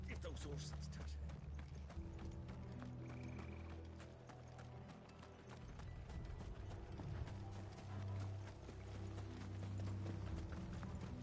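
Hooves clip-clop in a steady rhythm from horses in Final Fantasy 16, heard under a continuous low game score with voices speaking over the top.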